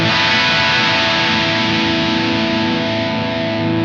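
A loud, sustained electric guitar chord through a Blackstar Dept 10 Dual Distortion pedal rings out with a thick, buzzing, scooped-mid tone, holding steadily without pause.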